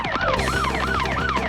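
A cartoon police car siren wails in a rapid, repeating rising-and-falling pattern, loud and close, sounding alone with an engine hum beneath it.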